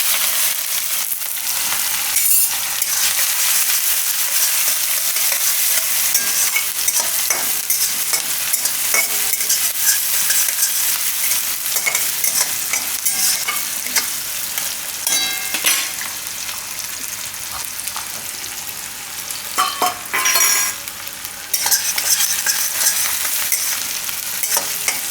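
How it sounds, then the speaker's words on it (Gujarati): Onions fry with cumin, mustard seeds, asafoetida and whole spices, stirred in hot oil with a continuous bright sizzle and scattered scraping clinks, close and steady with no talk. "થોડીક વાર ડુંગળી આ રીતે ફેરવીને થોડોક એનો કલર ચેન્જ થાય આ રીતનો ગુલાબી જેવો."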